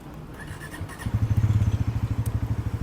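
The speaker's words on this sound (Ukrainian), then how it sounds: "Включаю, точніше запускаю мотор мотоцикла Bajaj Pulsar NS400." A Bajaj Pulsar NS400 motorcycle engine cranks and catches, then settles into a loud, rapid, pulsing idle close by.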